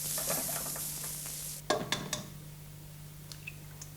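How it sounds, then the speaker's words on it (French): Small pieces of bacon cooking over low heat in a pan, a soft steady sizzle with a few clinks and scraping stirs of a utensil partway through, then quieter crackle. "Faites cuire à feu doux les petits morceaux de lard et goûtez-les."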